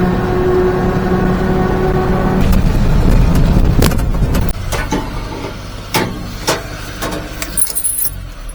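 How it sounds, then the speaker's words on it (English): A mini truck runs with a loud, close engine rumble for a few seconds before it cuts off, followed by scattered clicks, clunks and jangling. "It's always a pleasure to drive a mini truck"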